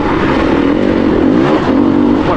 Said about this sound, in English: Still on my 2018, riding through the tight single track.